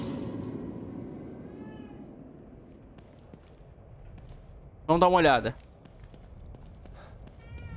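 A house cat meows once, loud and close, a drawn-out wavering cry of about half a second, amid faint game sounds and someone speaking briefly earlier.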